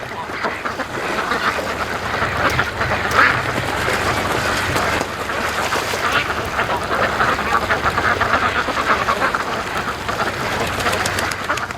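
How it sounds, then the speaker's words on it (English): A large flock of free-range ducks quacks continuously outdoors, a loud, dense chorus of overlapping calls that never lets up. "That's a mess of ducks."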